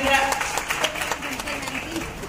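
Clapping from a gathered audience welcoming the anchor at a makeup event, a brief burst of many hands mixed with a voice speaking over it.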